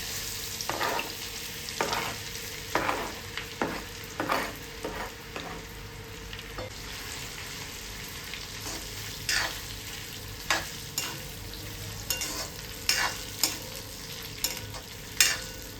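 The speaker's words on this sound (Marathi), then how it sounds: "आता ही हळद मी स्वच्छ धुवून खिसून घेतलेली आहे, ओली हळद ही. चला आता आपण तळून घेऊया त्याला." Grated fresh turmeric frying in ghee, with a soft steady sizzle broken by repeated scraping stirs of a spatula, close up and with no talking.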